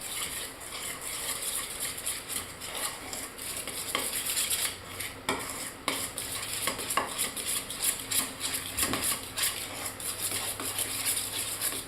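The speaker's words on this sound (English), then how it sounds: "I'm going to grab a spoon so I can stir it." A spoon stirring biscuit batter in a bowl, a steady stream of clicking and scraping against the bowl that keeps going throughout, close and fairly quiet.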